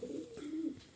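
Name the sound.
pigeon cooing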